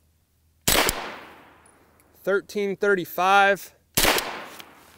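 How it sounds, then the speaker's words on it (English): Two loud, sharp gunshots from a PSA AKV 9mm rifle ring out about three seconds apart, each with a supersonic crack and short echo, with someone speaking between them. "the supersonic crack of the bullet going through the air is a lot louder from the AKV"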